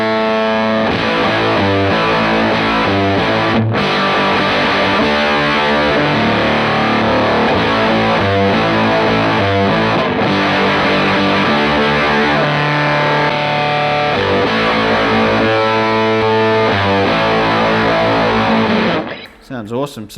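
Electric guitar through a JHS Supreme fuzz pedal with its mode switch engaged: thick, saturated fuzz with a brighter top and lighter lows, played continuously and loud, then cutting off at the end.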